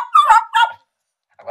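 A human voice imitates a dog in a few quick, barking yelps, two close together and then a brief pause before a fainter third.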